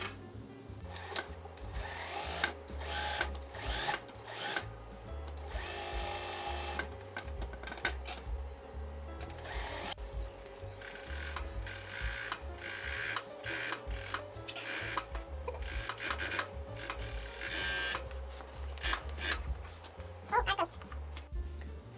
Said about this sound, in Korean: 이 사이로 EV 폼을 넣, EVA 폼 넣고 오버록을 칠 거예요